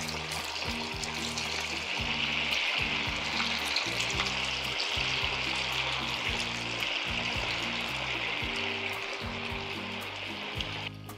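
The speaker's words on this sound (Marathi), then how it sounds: "वडा सोडूयात तेलामध्ये." Sabudana vada fries in hot oil at medium-high heat with a steady, close, crackling sizzle that holds evenly throughout, with no speech.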